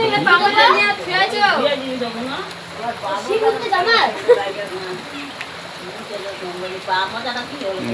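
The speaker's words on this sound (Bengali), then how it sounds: "বৃষ্টি তো ক্রমাগত চলছে, অ্যাসবেস্টস ঘরে" Steady rain pours onto an asbestos-roofed house and wet trees during the rainy season, a constant hiss beneath someone talking throughout.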